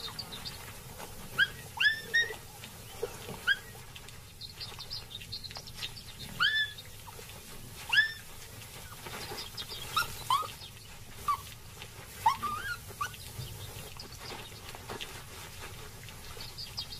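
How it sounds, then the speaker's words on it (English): Jackal pups at their den whimpering and squeaking in a scattered series of thin, faint cries, with soft outdoor background noise between calls. "The jackal has a den nearby, with her own young to care for. Three pups are waiting to be fed."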